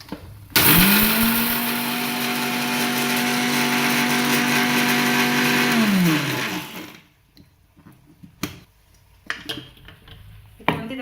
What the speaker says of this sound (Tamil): ஃபஸ்ட்டு நார்மலாக ஒரு கிரைண்ட் பண்ணிவிட்டு அதுக்கப்புறம் தண்ணி ஊற்றி அரைச்சிக்கலாம்